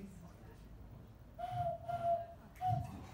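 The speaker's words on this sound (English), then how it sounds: "It's kind of like this cool whistle thing" Faint, soft whistled notes sound from the mouth, one held tone then a short second one, over quiet room noise.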